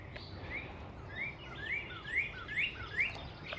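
A bird outdoors gives a series of repeated rising chirps, about six evenly spaced calls over a soft background of outdoor noise.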